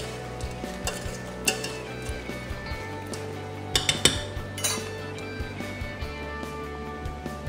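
Vegetables being stirred into a pot of shellfish stock bring soft, rhythmic clinks and scrapes of a utensil against the pot over a low bubbling hum, with a brief cluster of louder knocks partway through.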